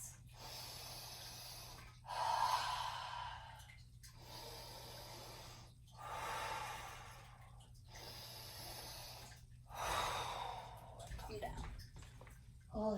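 Slow, audible breaths come in a steady rhythm during a yoga plank hold, each inhale and exhale rising and fading in soft, close airy swells separated by short pauses.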